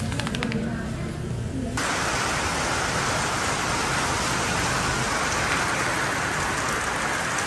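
Heavy rain pours steadily in the Philippines, a dense hiss of drops drumming on surfaces, with a faint rhythmic tapping at the very start.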